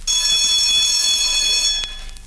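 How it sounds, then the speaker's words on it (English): A loud electric bell rings continuously for under two seconds, then cuts off abruptly, leaving a faint clatter behind. "just after the bell rang"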